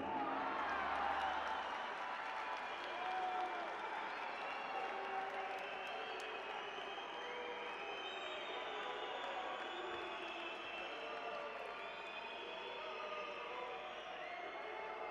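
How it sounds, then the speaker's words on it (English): Judo arena crowd at the 2016 European Championships in Kazan, heavyweight bout, voicing displeasure at a result: a sustained, dense roar of many voices with whistling and shouting, steady and fairly loud throughout. "the crowd are demonstrating their unhappiness at that result"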